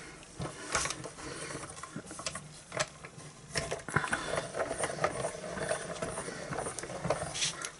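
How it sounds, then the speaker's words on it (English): A hand-cranked die-cutting machine rolls patterned paper and a flower die through, giving close ratcheting, clicking and grinding mechanical sounds in an uneven rhythm with no talking. "So let's put this last one through the machine."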